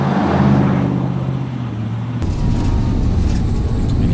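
An RV drives through the small Texas town of Gonzales, its engine a steady low rumble with road noise throughout, louder and rougher in the second half.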